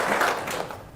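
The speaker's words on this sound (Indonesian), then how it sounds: "Tepuk tangan dulu dong sebelum dijawab" A short burst of audience clapping at an Indonesian seminar, a brief wash of many hands that tapers off within about a second.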